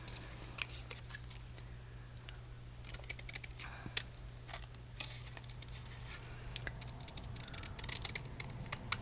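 Scissors cut out a can shape from paper for a coffee and chocolate journal craft, giving a run of quick, close snips and crisp paper rustles over a low steady hum.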